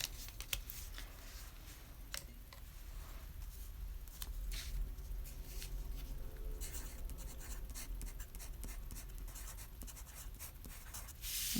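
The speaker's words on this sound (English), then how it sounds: "Let me open my cutting blade up here." A cutting blade drawn through a box, cardboard scored for a candy cane soap box, with continuous scratchy scraping and a few sharp ticks up close, fairly quiet and without talk.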